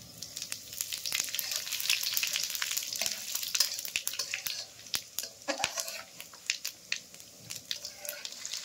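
Whole spices dropped into hot oil for a chicken kasha, crackling and sizzling up close with sharp pops and spatters that turn more scattered toward the end.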